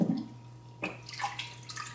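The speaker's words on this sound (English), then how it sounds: "we just fill this bottle" A clean bottle being filled with 102°F water for C41 4x5 film processing, a close splash and rush of pouring water with gurgles, no talk.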